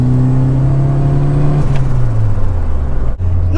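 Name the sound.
Ford Fiesta RS Turbo accelerating on boost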